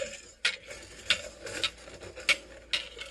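A whisk stirs lye solution in a container for soap making, producing rhythmic metallic clinks and scrapes about every half second, close and fairly quiet.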